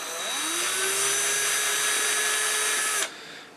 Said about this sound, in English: right now I will remove these 1, 2, 3 screws